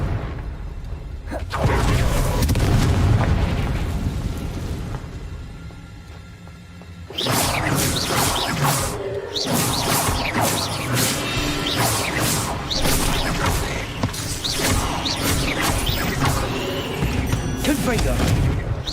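Confringo fire-blast spells explode again and again during combat in the video game Hogwarts Legacy, with loud crashing booms and whooshes over dense battle noise. A short quieter lull separates the first blast from a long, sustained barrage.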